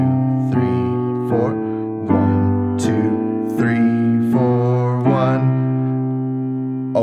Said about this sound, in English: I just made it through four chords using a walking bass line.